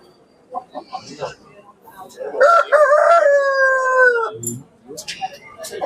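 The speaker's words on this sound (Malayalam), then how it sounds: "കോഴികൾ ഇങ്ങനെ വഴിപാടിന് വന്ന കോഴികളാണ് ഇതൊക്കെ" A rooster crows loudly and close by in one long, drawn-out call at the Kodungallur temple, where chickens are brought as offerings, with scattered clucks and brief voices before and after.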